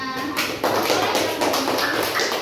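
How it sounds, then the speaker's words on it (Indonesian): Students in a classroom applaud a classmate who has just answered, a close, even patter of many hands clapping for a couple of seconds, with a brief voice at the very start. "Boleh tepuk aplaus buat temannya."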